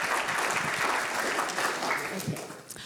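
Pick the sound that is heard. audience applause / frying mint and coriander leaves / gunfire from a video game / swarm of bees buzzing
audience applause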